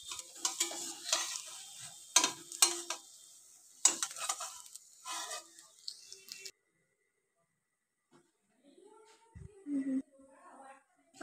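Egg fingers frying in oil for a crunchy evening snack, with bursts of crackling sizzle and stirring clatter for several seconds, then near silence and a few soft clinks.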